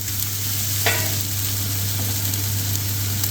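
Whole spices such as coriander and cumin seeds hit hot oil in a pan for tawa chicken, a sharp crackle rising over a continuous frying sizzle with a low steady hum beneath, no talking.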